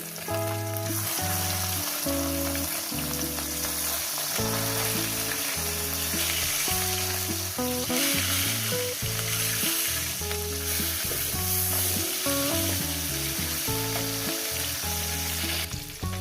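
Parshe fish coated in turmeric and salt fry in a pan of hot oil, giving a continuous close sizzle under steady background music throughout, with no speech.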